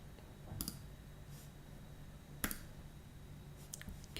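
Computer mouse clicks while right-clicking in design software, a few sharp, quiet isolated clicks spaced apart against a faint background hum.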